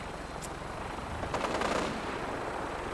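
Fallout 4 gunfire from a Sim Settlements 2 battle: a faint, distant rattle of shots that swells into a denser burst midway, with no talking.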